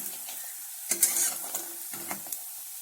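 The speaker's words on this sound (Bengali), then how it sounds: "বড়িগুলো বেশি ভাজবো না, অল্প কিছুক্ষণ ভেজে নেব।" Bori, small sun-dried lentil dumplings, fry briefly in oil in a kadai, giving a soft steady sizzle broken by a few scraping stirs of a spatula against the pan.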